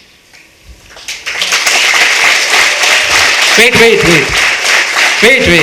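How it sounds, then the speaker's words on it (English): Large crowd of students at a medical college freshers day celebration bursting into loud, sustained clapping and cheering after a quiet start, with shouts and a speaking voice rising over the din. "If you agree with me, I want a big noise now, including clap."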